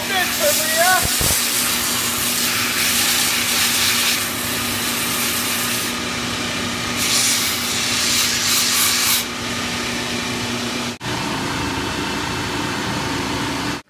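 A grinder shapes the medial arch of an orthotic shell, a steady abrasive rubbing and sanding drone that runs continuously at close range, with a brief interruption near the end before it resumes.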